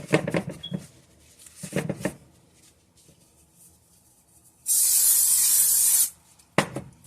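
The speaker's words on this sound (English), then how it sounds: "We want to spray our bowl with a little bit of oil, non-stick oil." A single sustained hiss of canola non-stick oil sprayed into a bowl lasts about a second and a half, close and loud, surrounded by soft rustling and handling noises.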